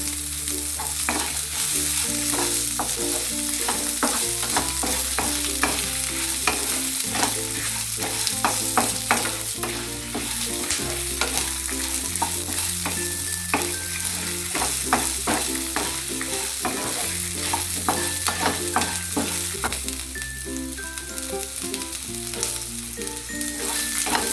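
Dal roasting in a pan for a pirandai thuvayal, a continuous close sizzle with repeated scraping stirs from a spoon, while steady background music plays underneath.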